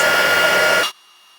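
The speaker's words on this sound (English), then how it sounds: "Using the heat tool, we're just going to melt that powder and create those beautiful snow peaks." A handheld heat tool blows hot air to melt embossing powder on a penguin shaker card, a close, loud steady whoosh that cuts off abruptly after about a second, leaving near silence.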